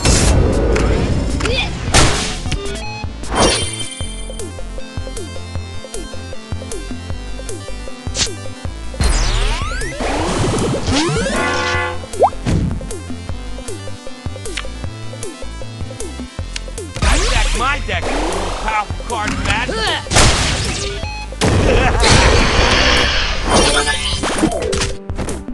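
Card Wars Kingdom ultimate attack effects in a player-versus-player match: a dense, loud run of whooshes, whip cracks, thuds and crashing impacts over game music, with the heaviest bursts near the start, middle and end.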